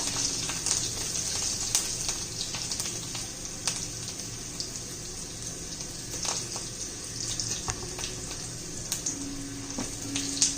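Garlic sautés in a pan for Rajasthani-style methi bhaji, making a constant close sizzle with scattered crackles and pops and no talking.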